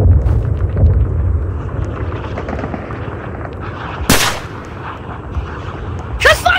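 Loud gunfire rings out in the Roblox World War 3 game: one sharp, booming shot in the middle and another near the end, over a constant rumbling battle din.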